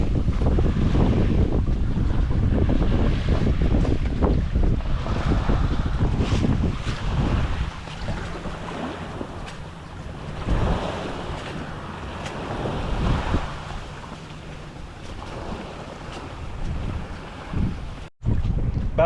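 Gusting wind buffeting the microphone and waves washing against the hull of a sailboat out on open water, continuous and rough with surging swells.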